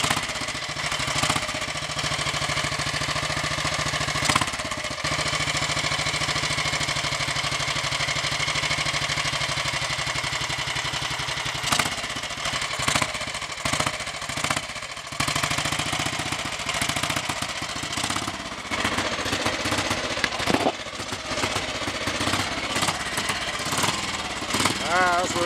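A 1955 Royal Enfield 500 motorcycle engine runs steadily after long storage, a continuous close, loud thumping idle with a rough, uneven beat and a few revs, and a voice speaks over it.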